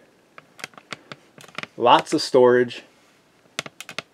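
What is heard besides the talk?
typing on old school mechanical keyboard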